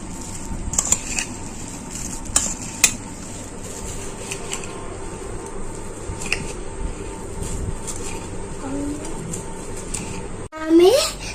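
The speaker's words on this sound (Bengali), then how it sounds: "এবার আমি এগুলো মিক্স করছি যাতে মিক্স হয় তাতে মজা লাগে" Puffed rice and jhalmuri ingredients tossed and stirred together in a bowl give a steady dry rustle with a few light knocks against the bowl, while a person talks over the mixing.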